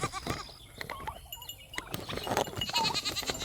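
Bianca, one of the smallest goats on a farm, bleats in short wavering cries close by amid rustling and general barnyard noise, with no voices over it.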